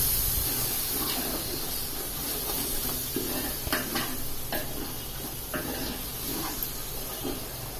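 A spoon stirring yogurt into masala in a pot for country chicken dum biryani, with soft scraping and light clinks over a steady sizzling hiss, close and continuous, no talking.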